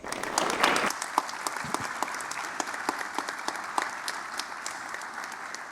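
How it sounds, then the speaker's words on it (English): Applause from an audience at a National Honor Society induction ceremony, steady sustained clapping after a brief louder burst at the start, moderately distant with no talk. "Let's give a round of applause for everyone who has supported us throughout the years."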